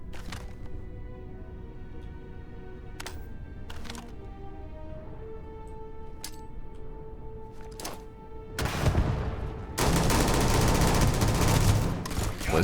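A few sharp, isolated shots early on give way to a sustained loud burst of automatic gunfire from the player's gun in the space game Starfield, over tonal game ambience.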